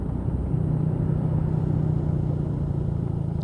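Yamaha Mio GT 113cc scooter engine braking on a downhill road, a steady low rumbling drone with a faint constant whine, close and continuous, no talking.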